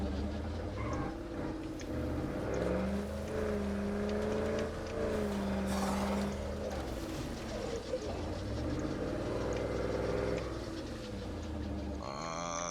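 Vehicle engine in State of Decay 2, a low steady hum with rising and falling revving tones, overlapped by game sounds and a moo-like noise, loud and continuous.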